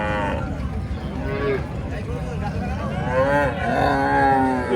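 A Friesian cow with her calf at a busy cattle market, giving drawn-out lowing moos, one after another. Voices and crowd murmur sound in the background.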